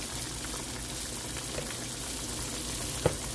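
Large pieces of Swai fish frying in hot oil in a pan, a continuous crackling sizzle at moderate volume with scattered pops and one sharper spatter near the end, no voices.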